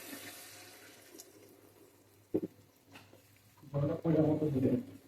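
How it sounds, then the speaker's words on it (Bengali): Water poured into a pan of sea surmai fish being cooked as a dry bhuna, with a brief splash followed by a louder, sustained pour and sizzle close by, over a low background hum. "এবারে জল দিয়ে দিব।"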